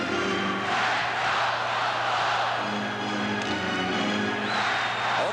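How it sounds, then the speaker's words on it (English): Large hockey arena crowd at a Buffalo Sabres versus Moscow Dynamo game roars in a steady, dense wash of cheering and shouting that holds loud throughout, with no clear breaks. "Well, this last 5 minutes has lit the crowd up"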